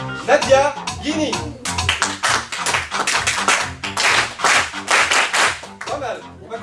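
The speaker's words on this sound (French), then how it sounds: "on va complexifier un petit peu les claps" Theatre audience at a comedy show clapping back a rhythm in crisp, spaced bursts after a performer's lead, with the performer's voice and claps alternating between the audience's patterned clapping.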